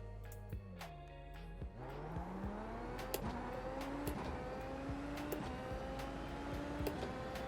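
A Super Formula single-seater in iRacing launches off the start and accelerates through the gears, its engine note rising steadily and dropping sharply at each of several upshifts, with a steady drone throughout.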